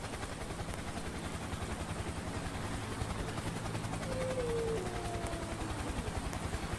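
Helicopter rotors in the video game IGI 2 Covert Strike, a steady chopping drone with a faint whine, continuous and fairly distant, no talk.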